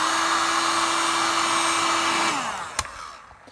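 A heat gun blows steadily on a tyre, a constant airflow whine with a faint steady tone that winds down and cuts off near the end, followed by a small knock and fading spin-down.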